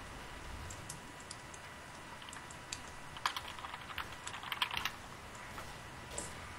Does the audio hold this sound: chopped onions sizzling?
no